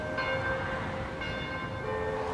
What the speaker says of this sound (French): Puis écoutons la cloche.